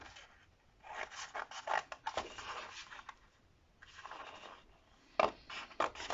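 Scissors or a blade cut around a shape on a kraft paper notebook cover, making short, soft, intermittent rasping and scratching strokes close to the microphone, separated by quiet pauses.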